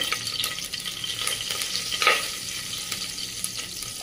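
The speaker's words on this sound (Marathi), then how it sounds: "कडपत्त्याची पाने, त्यानंतर हिंग आणि थोडीशी हळद टाकायची आपल्याला त्यामध्ये" Curry leaves, asafoetida and turmeric crackle in hot oil for a tempering, a moderate close sizzle with stirring scrapes and a brief louder spatter midway.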